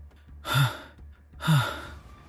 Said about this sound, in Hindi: वो हांफते हुए अपनी सांसें काबू में करने की कोशिश करता है